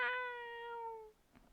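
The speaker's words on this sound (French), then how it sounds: "Et le retour du chat miauleur" A cat gives a single clear, drawn-out meow close by. The call is tonal and slowly falling and lasts about a second, followed by a brief faint rustle.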